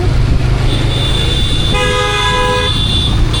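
Car horns honk in busy Kolkata street traffic during the Durga Puja festival. A loud, steady engine and road rumble runs throughout, a thin horn tone holds across the middle, and a stronger honk sounds for about a second near the middle.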